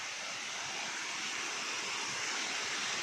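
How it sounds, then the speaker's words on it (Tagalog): Balete Falls in Amadeo, Cavite pours in a steady, loud broadband rush of falling water that stays even and continuous with no voices over it. "Napakaganda ng falls nila."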